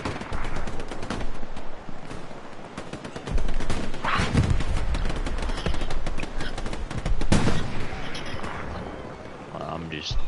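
Rapid bursts of BAR rifle fire in the World War II shooter Hell Let Loose, loud and close, repeating in clusters over a constant background din, with talk over parts of it.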